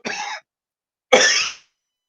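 A man in a church gives two sharp, close coughs about a second apart, each a short rough burst, with silence around them.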